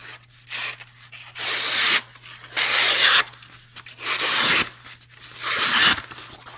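A Ganzo G728 assisted-opening knife slices through sheets of paper, giving five loud rasping strokes in an even rhythm, each roughly a second long, with short pauses between and no talk.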